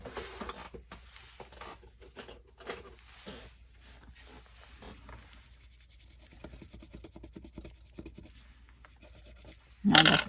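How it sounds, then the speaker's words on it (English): A blue colored pencil rubs and scratches across paper in a sourdough-themed art journal, a soft, steady close-up scraping texture that ends with a brief louder rustle. "Maybe a blue colored pencil."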